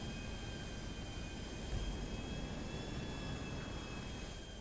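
A jet airplane engine in the GTA V video game roars as a steady, continuous broadband drone with faint high whine, moderately loud with no talk.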